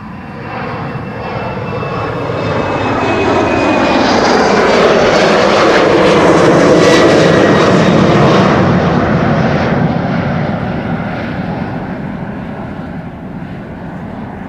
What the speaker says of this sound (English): British Airways flight 8496. Embraer 190 long range.